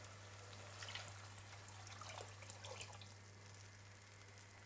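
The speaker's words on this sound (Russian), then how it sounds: "мы наливаем воду." Water poured into a pot for chicken soup over lightly browned potatoes, a soft steady trickle and splash, fairly faint under a constant low hum, with no talking.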